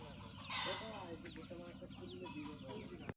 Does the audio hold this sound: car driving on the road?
no